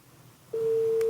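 After a live phone-in call is cut off, a telephone busy signal begins abruptly as a loud, steady electronic tone following a moment of quiet line hiss.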